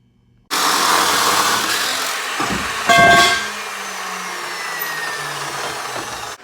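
Steel tubing for a roll-around NASCAR chassis cart being cut in a shop, a loud steady abrasive whine starting abruptly and running several seconds, with a brief harsher surge midway before settling and stopping.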